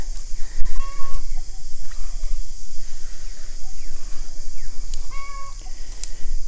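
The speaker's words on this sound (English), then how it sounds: "My chickens are quacking away over there, or clucking, I guess." Backyard chickens cluck in short bursts at a middle distance outdoors, over a steady high-pitched insect-like drone and low rumble.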